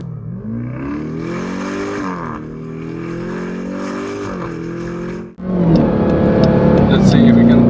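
A Dodge Durango engine drones loudly and steadily as the SUV pushes toward top speed, its pitch rising through the gears with a brief dip at a shift before climbing again, with a voice talking over it.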